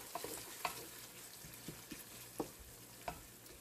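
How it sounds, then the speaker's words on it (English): Local beans sizzle and fry in a pan for efo riro soup, a faint steady crackle broken by several soft stirring scrapes and pops. "here I'm putting my local beans here, and I'll fry it together"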